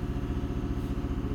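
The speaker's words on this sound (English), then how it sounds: "Okay, so fuel level is low, engine is idle." A Ford 6.7 diesel engine idles close by with a low, even, throbbing clatter and no talk.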